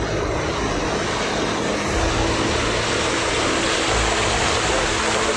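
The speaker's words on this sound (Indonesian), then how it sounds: "Ombaknya tambah gede, ombaknya tambah gede." Big sea waves breaking at a river mouth beach at Sukawayana, Palabuhan Ratu, heard as a loud, continuous broadband roar and wash with no clear pauses or nearby talk.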